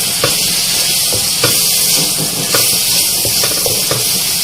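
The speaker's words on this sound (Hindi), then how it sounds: "और टमाटर डाल के भी इसे हमें अच्छी तरह से भूनना है" Finely chopped tomatoes frying in garlic, ginger and chilli paste for matar pulao, a loud, steady hissing sizzle up close with a few soft stirring knocks spread across it.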